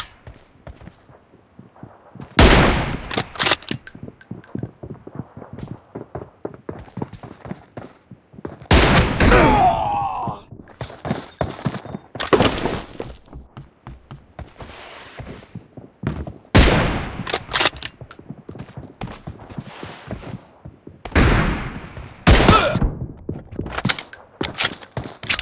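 Bursts of gunfire from the battle game PUBG, sharp loud shots and short volleys scattered through the stretch, separated by quieter busy stretches of movement and footsteps.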